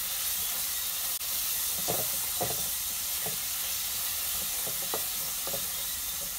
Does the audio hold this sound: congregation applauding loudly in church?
no